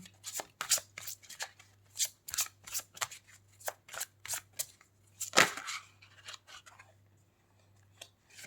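Tarot cards being drawn and handled at close range, with a string of crisp snapping and sliding card sounds in irregular bursts, one louder flick midway, over a faint low hum.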